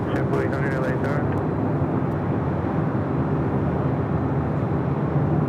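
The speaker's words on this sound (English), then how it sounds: "let's head to the A321 next arrival" A JetBlue Airbus A321 arriving at LAX, a steady broadband engine roar holding level throughout, with a brief thin whine near the start and talk heard over the rumble.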